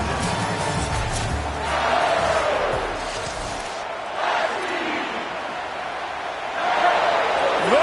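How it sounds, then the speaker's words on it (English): A large stadium crowd at a Washington vs Iowa football game roars in loud surging waves, swelling and fading in a big echoing venue, with a voice calling out over it at times. "Listen to this crowd just shaking the girders of this place"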